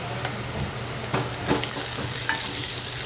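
Turmeric and cumin tempering sautéing in hot oil for dal fry, a steady close sizzle broken by a few scraping stirs of the spoon, with no talk.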